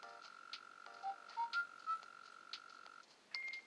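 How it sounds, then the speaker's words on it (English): Mole cricket in Animal Crossing: Wild World, giving faint, short croaking chirps in a loose burst pattern against a quiet, steady background tone. "Dude, is that Mole Cricket?"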